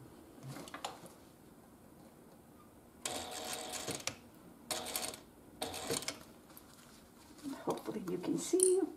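A sewing machine with a compensating foot runs along a seam allowance edge in short bursts of rapid stitching, separated by pauses, close and moderately loud, with a person talking quietly in between.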